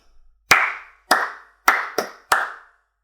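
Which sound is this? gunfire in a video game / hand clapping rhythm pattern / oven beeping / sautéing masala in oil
hand clapping rhythm pattern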